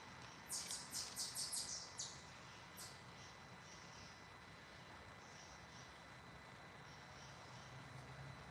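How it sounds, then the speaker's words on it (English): Forest birds chirp in a quick, bright burst of several calls near the start, then only a few faint, scattered calls follow over a steady, quiet outdoor hiss. "Oh, it's so nice to hear the birds."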